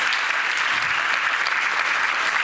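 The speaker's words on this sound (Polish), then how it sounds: "jeszcze raz poproszę o klaski" An audience applauding after a film screening, with dense, steady clapping that fills the room throughout.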